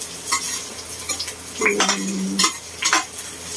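Ginger going into a hot pan for ampalaya with egg and meat: soft sizzling frying under repeated scraping and clinking of a metal utensil stirring against the pan.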